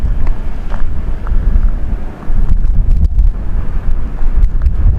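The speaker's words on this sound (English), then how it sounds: "But this is the windiest I've seen it out here" Strong wind buffets the microphone behind an RV in a loud, continuous low rumble, with gusts that rise and fall throughout.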